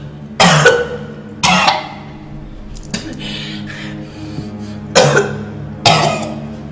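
Four loud, harsh coughs, spaced a second or so apart, close to the listener with no talking.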